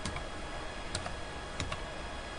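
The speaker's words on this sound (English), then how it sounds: "I'll have to type in Tengu." A computer keyboard is typed on quietly, a few sparse, crisp key clicks standing out over low background hiss.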